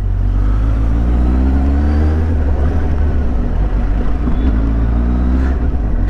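Steady, loud Suzuki GSX-S750 motorcycle engine rumble with heavy wind roar, riding along a highway at speed, constant throughout with no talking.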